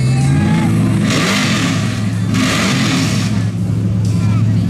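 Street rod class race cars at a mud drag event in Canistota, South Dakota roar loudly and continuously as they accelerate, their engines droning with a steady rumble, with a voice talking over it.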